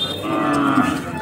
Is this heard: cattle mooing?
yes